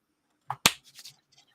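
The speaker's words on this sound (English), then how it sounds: "The clap there." A single sharp hand clap rings out in a quiet room, followed by a few faint, soft sounds.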